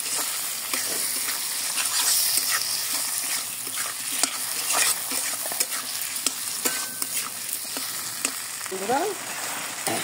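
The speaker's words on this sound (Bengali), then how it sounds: "এখন এই আলুটা ভালো করে কষাতে হবে।" Boiled potatoes being stir-fried in a pan for a Pangas fish dish, a steady sizzle under repeated scraping and clinking of the spatula across the whole stretch, close and fairly loud, with no talking.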